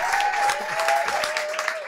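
An audience claps steadily through a stand-up comedy show in a Toulouse bar, the dense patter of many hands continuous and fairly close, with a thin sustained tone running across it and no clear talk.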